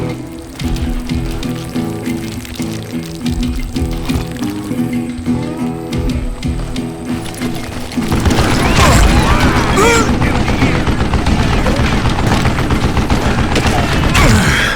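Gunfire in the video game Call of Juarez Gunslinger, with dense, constant crackling shots over a musical score. The shooting grows louder and more chaotic about halfway through, and it stays loud and continuous throughout.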